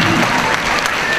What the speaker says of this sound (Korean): 박수 한번 힘차게 해주시겠습니까?